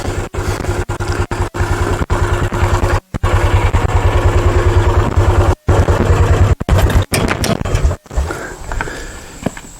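A Mule utility vehicle engine idles with a steady, throbbing chug close by, broken by a few brief dropouts before the tone changes near the end.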